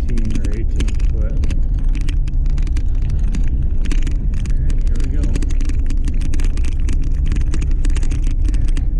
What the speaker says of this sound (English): Just pulling on an enclosed trailer